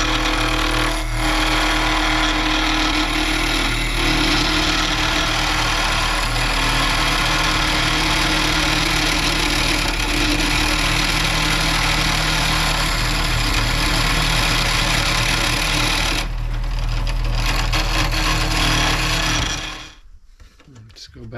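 Wood lathe spinning a pen blank while a tool trims it slim, a steady loud motor hum with a continuous scraping cut that holds for most of the clip, then stops abruptly near the end.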